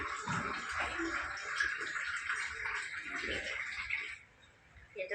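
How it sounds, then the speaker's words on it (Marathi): Water pouring into a cooking pot in a home kitchen, a steady splashing rush that runs for about four seconds and then cuts off, heard up close with no talking. "पाणी टाकायचं"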